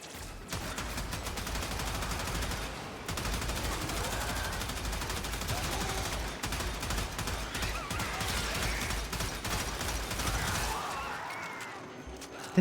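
Video game gunfire pours out in dense, rapid automatic bursts at close range, nearly continuous with a couple of brief gaps, loud and clattering from start to finish.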